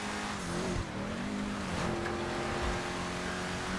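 Grotti GT750 engine in GTA Online, a loud, continuous droning roar with a steady tone and slight swells in pitch, running alone without speech.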